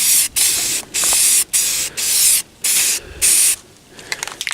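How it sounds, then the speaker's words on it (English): Primer sprays from an aerosol can onto a fiberglass door panel for an S10 truck, five steady, close hissing bursts separated by brief gaps, with light handling noise at the end. "spray it on a little bit thick. It is primer"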